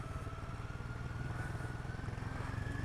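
A motorcycle engine chugs steadily at low revs as a ride on Himalayan off-road trails gets under way, a close, even rhythmic throb with no voices.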